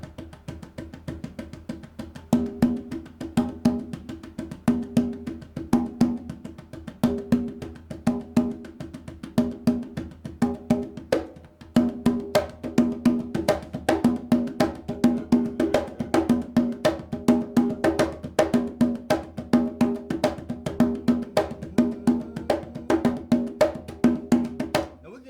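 Hybrid drumming with grace notes: a dense, steady stream of quick drum strokes and flams over a sustained pitched tone, close and fairly loud, running continuously with no talking.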